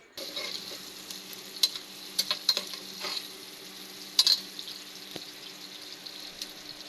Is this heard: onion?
yes